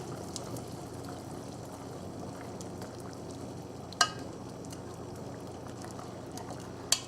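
A pot of water boils steadily for tom yum soup with shrimp and salmon, giving a constant bubbling hiss with two sharp clinks near the end.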